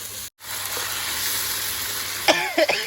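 Thai curry paste stir-fries in a pan for a catfish curry, giving a continuous close sizzling hiss. Near the end a cough and some brief vocal sounds break in over it.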